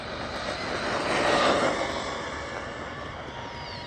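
An Arrma Big Rock RC truck on 2S with a 26-tooth pinion and ZTW 120A ESC makes a speed run. It gives a loud, continuous high-pitched whine that swells as it passes closest around the middle, then fades slightly.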